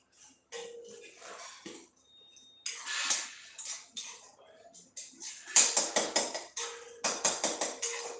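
Cabbage is tipped into a cooking pot with softened tomatoes and mashed, making bursts of rustling and clattering metal utensil taps, with quick repeated knocks toward the end.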